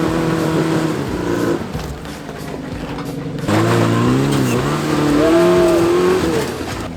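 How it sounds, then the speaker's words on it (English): A small Suzuki Samurai engine revving hard while climbing a rock slab off-road, loud close engine roar bouncing off the rev limiter, dipping briefly, then surging again with rising pitch. "After a bunch of rev limiter filled attempts, he finally took a good bounce, stayed in the gas, and shot right up it"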